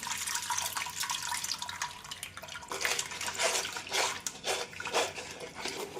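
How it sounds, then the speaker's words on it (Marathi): Water used to rinse a mixer jar splashes and pours unevenly into a vessel for several seconds, with gurgling surges growing louder toward the end. "आता हे मिक्सरचं भांडं धुतलेलं पाणी पण टाकून घेऊ"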